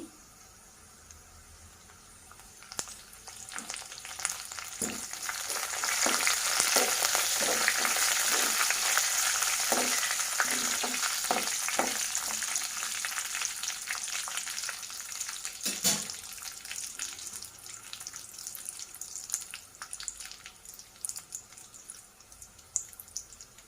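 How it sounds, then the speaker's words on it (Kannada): Curry leaves hitting hot oil for garlic rice, crackling and spattering loudly at first, then settling into a busy frying sizzle with scattered sharp pops and a few stirring knocks. "ಇವಾಗ ಇದಕ್ಕೆ ಕರಿ ಲೀವ್ಸ್ನ ಹಾಕ್ತಾಯಿದ್ದೀನಿ"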